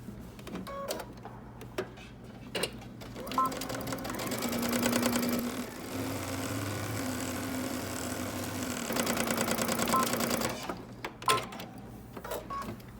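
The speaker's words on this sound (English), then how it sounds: "now I'm going to sew around the pocket" A domestic sewing machine runs in steady bursts while stitching around a pants pocket on a pair of shorts, its close, even motor whir and needle rattle starting and stopping with short pauses between runs.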